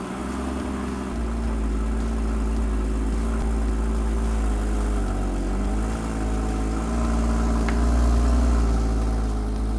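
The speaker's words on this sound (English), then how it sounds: "fire up that beautiful, glorious flat six engine" A Porsche Boxster's flat-six engine catches and settles into a steady, deep idle, heard close and loud with a low, even rumble throughout.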